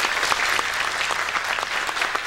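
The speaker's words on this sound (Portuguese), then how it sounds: "peço uma salva de palmas também para ele" Dense, steady audience applause fills the whole stretch at a debate-series lecture on democratizing the state, a broad close wash of many hands clapping with no voices over it.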